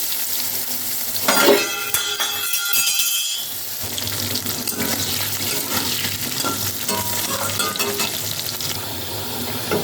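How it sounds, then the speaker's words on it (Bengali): Potato pieces drop into a hot oiled pan for a katla fish curry, bursting into a loud sizzle that settles into a steady frying hiss. Scrapes and light clinks of stirring recur throughout. "এবার আমি আলুগুলো দিয়ে দেবো। আলুগুলো আলাদা করে আর ভাজিনি, একসাথেই ভেজে নেব।"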